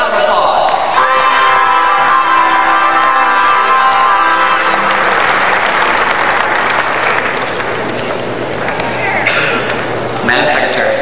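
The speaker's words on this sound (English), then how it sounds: "FFA members, please give her a round of applause." An FFA state leadership conference audience gives a loud, sustained round of applause with some cheering, while a brief melodic tone rings over the opening seconds.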